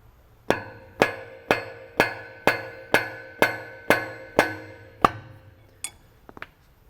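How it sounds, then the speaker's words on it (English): A drift pin being struck with a hammer to line up the cylinder with the piston on an HP20T4 pump: nine sharp metallic taps at an even one-per-half-second pace, close and loud, then a couple of lighter knocks. "it may be necessary to use a drift pin to line up your cylinder with your piston"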